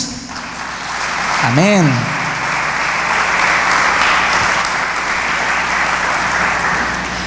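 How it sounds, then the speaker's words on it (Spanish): A church congregation applauding during a sermon, with loud clapping that carries through the whole stretch. A voice calls out briefly near the start. "¿Le das un aplauso a Jesús?"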